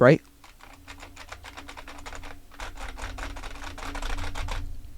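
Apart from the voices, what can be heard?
typing on IBM Model M keyboard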